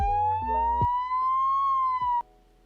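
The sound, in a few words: ambulance siren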